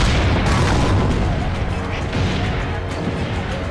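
Heavy cannon booms roll through a battle in Assassin's Creed: Brotherhood, dense and loud, with overlapping blasts and crashing debris filling the whole stretch.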